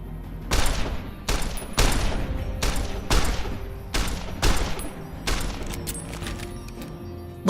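About eight sharp gunshots crack out at a shooting range in an uneven rhythm, each loud and close with a short ringing tail.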